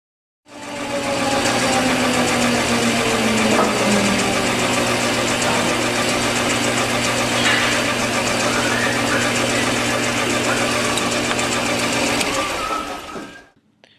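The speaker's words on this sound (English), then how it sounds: "Here we're going to put our metal lathe tool to use for the first time" A metal lathe cuts aluminum with a steady, loud mechanical whir and hum that starts abruptly, runs continuously for about twelve seconds, then winds down, with no talking.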